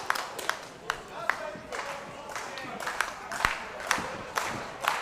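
A wrestling crowd at the Lionheart vs. James Wallace singles match claps and cheers, with sharp individual claps and shouts breaking through a constant, fairly distant murmur of the arena audience.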